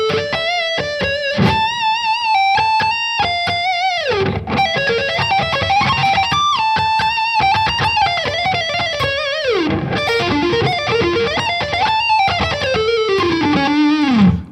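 A distorted electric guitar plays a chorus melody with slides and bends through a long, continuous line. It is loud and up close, with no talking.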